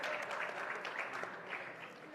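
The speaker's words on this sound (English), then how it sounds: "Once again, a big round of applause for Dr. Vishal Gandhi." A conference audience at a healthcare event applauds a speaker, a faint, steady wash of clapping heard from a distance throughout.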